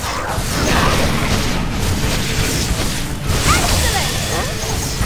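Spell striking its target in a Harry Potter video game, a heavy booming impact with a crashing burst amid dense game sound effects, loud and close, followed by a second hit about two seconds later.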